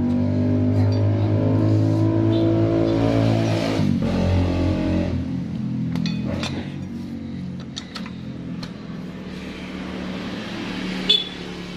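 A Honda Supra 125 motorcycle engine idling steadily and loud after a repair for sputtering and lost power, with the pitch wavering slightly, a few metallic clinks, and a sharp tap near the end.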